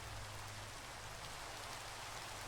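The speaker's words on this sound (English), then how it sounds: "Just regular rain." Steady, even rain falls in the Minecraft video game, a continuous soft hiss with no thunder and no talking.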